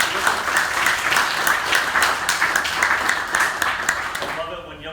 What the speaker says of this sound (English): another round of applause for this young man.